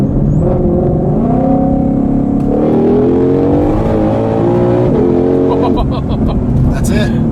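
A 2020 Shelby GT500 on a 40 mph roll: the engine note climbs steadily and loudly from inside the car, then drops sharply at a downshift near the end, with a short burst of revving after it.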